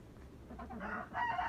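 Chickens clucking and crowing in extreme winter cold at a farm with turkeys and ducks, a steady moderate fowl chorus that swells louder toward the end.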